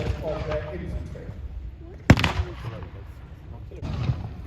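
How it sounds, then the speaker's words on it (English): A WW1 German 77mm field gun battery fires from about a kilometre away during a battle re-enactment, giving one sharp distant report with a short rumbling tail amid background crowd and voices. "they are firing about a kilometre away, just about over open sights, dropping a few rounds in, either HE or shrapnel"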